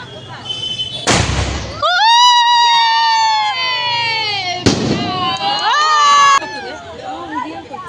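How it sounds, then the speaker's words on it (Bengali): Fireworks set off at a celebration: two sharp, loud broadband bursts a few seconds apart, with whistling, gliding tones ringing out between and after them, and crowd noise underneath. "সবাই এসে দাঁড়িয়েছে এখানে, এখন বাজি পোড়ানো হবে।"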